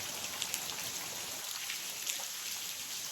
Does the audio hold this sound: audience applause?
no